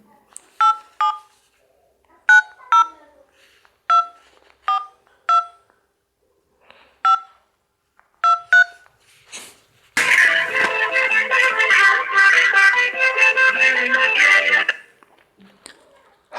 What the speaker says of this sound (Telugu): హరీష్ సికింద్రాబాద్కి ఫోన్ చేద్దాం ఒకసారి